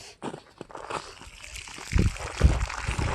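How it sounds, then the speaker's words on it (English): Water from a hot water heater being flushed pours and splashes onto snow, a rising, broadband slosh with heavier bursts toward the end, close to the microphone. "I want to see what it sounds like when it hits the snow."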